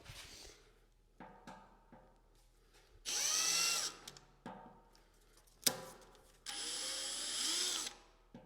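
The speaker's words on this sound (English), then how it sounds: "I'm going to use a step bit to drill a hole in the tank here." A handheld power drill runs a step bit through the steel tank of an old air compressor, with short bursts of whining grinding separated by pauses and quiet clicks, close and loud.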